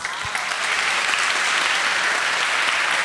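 Steady applause from an audience at a Brazilian church gathering, a dense, even wash of many hands clapping that fills the whole stretch at a constant level.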